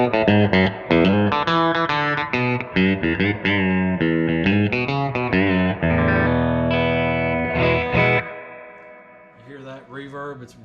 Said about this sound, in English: It's really good vintage reverb.